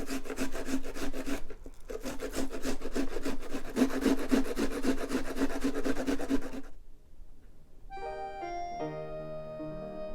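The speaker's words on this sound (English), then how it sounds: "You'll also want to grate some onion." Onion is rubbed against a kitchen grater in quick, even rasping strokes for several seconds, close and moderately quiet, before it stops and a few soft musical tones follow.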